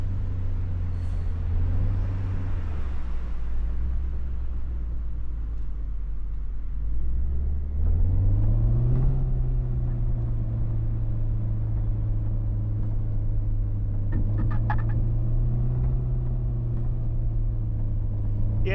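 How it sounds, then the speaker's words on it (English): Traffic vehicles in the emergency-services video game Flashing Lights rumble steadily, with a low engine drone that shifts pitch as a heavy vehicle accelerates, plus a brief hiss like an air brake near the start. "So they added like different sounds in for all your AI traffic."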